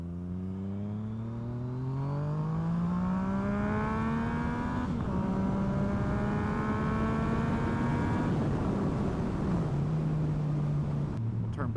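Naked motorcycle engine on a first ride, a steady droning exhaust note rising in pitch as it accelerates through the gears, with a brief dip at a shift and wind rush throughout.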